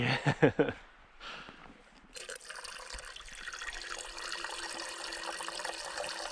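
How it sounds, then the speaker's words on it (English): Hot water is poured into an instant oatmeal bag at a rainy backcountry camp, a steady close trickling gush that starts after a few brief clinks and rustles. "Just pour the hot water right in there."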